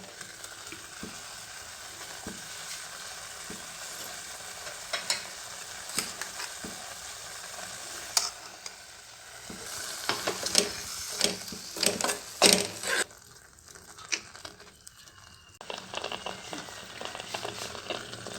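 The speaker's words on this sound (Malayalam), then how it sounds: "ഇതൊന്നും നല്ലപോലെ തിളച്ച് വരുന്നുണ്ട്." Pineapple pachadi with grated coconut simmers at a steady low bubble in a pan, with intermittent scraping and clinking as a spoon stirs it. The sounds grow busier toward the middle.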